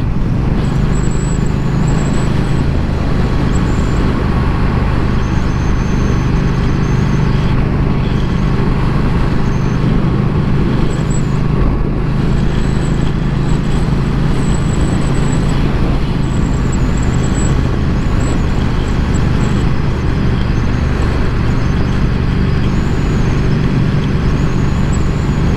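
A Triumph Thruxton R motorcycle is ridden on the road, its engine a loud, continuous low rumble with steady wind and road noise throughout, no voices heard.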